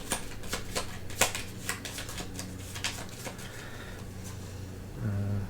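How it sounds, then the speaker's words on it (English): A deck of G.I. Joe deck-building game cards being shuffled up close, a run of crisp riffling flicks and taps at an even pace, ending in a soft thud, with no voices. "Have to shuffle."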